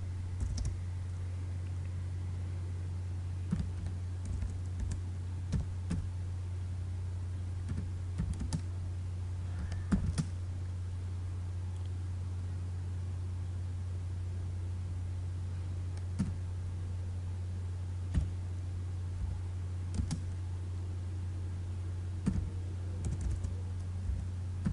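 Computer keyboard typing during a touch-typing lesson: sparse, irregular key clicks over a steady low hum, with no voices.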